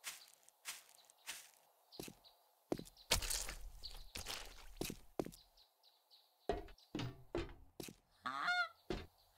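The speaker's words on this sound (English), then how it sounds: "A goose climbing the ladder" Goose honking in the survival game 7 Days to Die, modded, as it climbs a ladder: scattered sharp honks and squawks between clattering steps and thuds, ending in a rapid run of cries.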